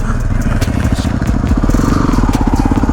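Dual-sport motorcycles pull away on a night trail ride in Osceola National Forest with a close, loud, pulsing engine chug and some rattling clatter, all heard continuously.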